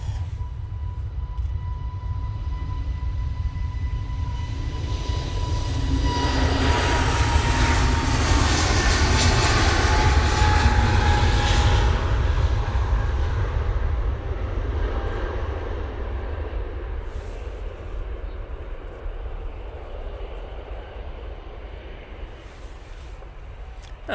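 An EasyJet airliner thunders down the runway on its takeoff roll, a broad engine roar swelling to a loud peak midway before slowly fading into the distance, with no talk over it.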